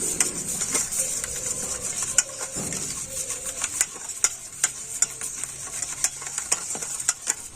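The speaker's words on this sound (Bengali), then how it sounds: "এখন আমি সমস্ত কিছু খুব ভালো করে মিশিয়ে নেব" Boiled potatoes being mixed with chaat masala and ground black pepper in a bowl, giving a soft scraping stir broken by sharp ticking taps of a utensil against the bowl rim, close and alone.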